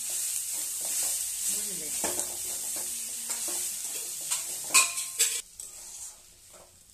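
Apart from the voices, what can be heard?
ivy gourd (kundri) frying with turmeric, stirred in pan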